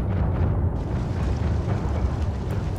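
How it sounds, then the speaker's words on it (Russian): A railgun shot striking its target in the submarine game Barotrauma, heard as a loud, dense rumbling blast that fills the whole clip with low booming energy and no break. "Я промазал рельсотроном по ней"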